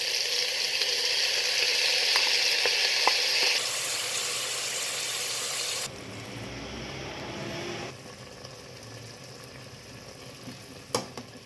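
Ground curry paste for a Thai green curry sautés in a pan with a steady, close sizzle. The sizzle eases in steps partway through, and a couple of sharp clinks come near the end. Nobody speaks.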